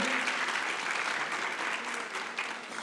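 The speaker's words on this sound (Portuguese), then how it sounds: "aplausos para você" Applause fills a municipal congress on active longevity, a dense, steady clapping from a sizable audience, fairly loud and close, with no clear talk over it.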